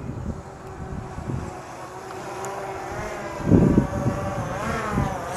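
DJI Mavic 2 Enterprise drone flying nearby outdoors, giving a steady buzzing whine with shifting pitch over wind-like background noise and a brief thump midway.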